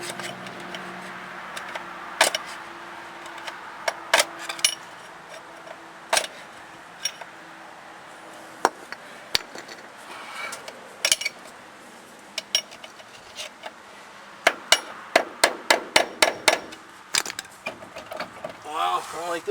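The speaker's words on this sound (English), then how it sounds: "You can usually get a screwdriver and put in here and tap it with a hammer to tighten that back up." A hammer taps on a screwdriver set against the front hub of a 1984 Chevy 4x4 truck, giving sharp metallic clinks at irregular intervals that bunch into a quick run of taps near the end over a quiet garage background.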